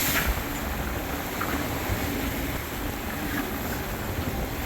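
A Catalina 30 sailboat pushes through waves, a constant rushing wash of water and wind buffeting the microphone, steady and close with no voices.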